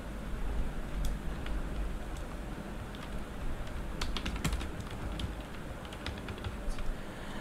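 Someone types steadily in MS Word on a computer keyboard, producing rapid, uneven key clicks with occasional louder taps over a constant low background hiss.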